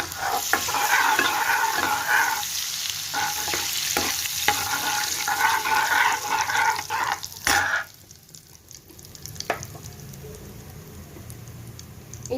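Bay leaf, cinnamon and cumin sizzling in melted butter in a pan for paneer bhurji, a close, steady crackling fry with occasional stirring clicks that quiets partway through.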